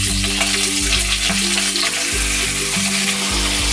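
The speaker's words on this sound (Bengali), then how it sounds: "ফোড়নের মধ্যে আমি এই মাংসগুলো এবার দিয়ে দেবো।" Chicken pieces fry in hot oil tempered with cumin seeds, producing a loud, continuous, close-up sizzle with a steady tonal melody playing underneath.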